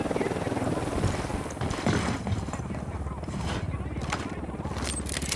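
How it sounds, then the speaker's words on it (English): A helicopter flies overhead in the tactical shooter Ghost Recon Wildlands, giving a steady rotor drone throughout, mixed with game sounds and spoken voices. "Only that chopper. Stay low."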